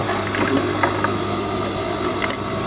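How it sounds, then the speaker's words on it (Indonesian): A sewing machine stitches the side pocket of a pair of trousers, giving a steady close mechanical whirr with small ticking clicks throughout and no talk. "Nah, kita jahit dulu tuh."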